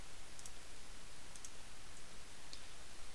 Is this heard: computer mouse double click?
yes